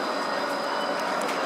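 A Gold Coast tram rolls steadily along its line, a continuous close rail and wheel rumble with a faint high whine running through it, no voices over it.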